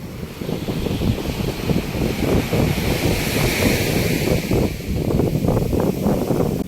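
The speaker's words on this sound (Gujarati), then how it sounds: "ચોકી મોજા પણ વધી રહ્યા છે." Waves are rising along the sea shore at Shiyal Bet, where people fish for shrimp. A steady, rushing wash of surf mixes with wind rumbling against the microphone, fairly loud and unbroken, with no voices.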